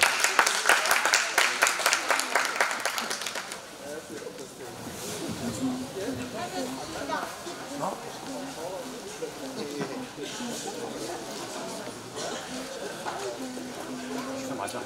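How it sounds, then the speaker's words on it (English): Audience applause at a church Valentine's banquet talent show, loud clapping in the first few seconds that fades out, followed by a voice and room murmur. "So, a round of applause for him."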